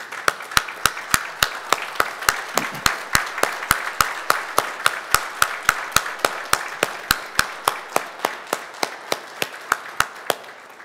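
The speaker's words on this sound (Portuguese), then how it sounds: "queria que todos ficassem de pé e dessem uma salva de palmas para esses bravos guerreiros" A standing audience at a ceremony honoring the 9th Military Police Battalion's anniversary claps in unison: sharp, evenly spaced claps at roughly four per second, sustained loud and steady throughout.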